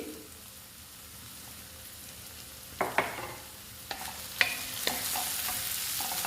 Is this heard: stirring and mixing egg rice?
yes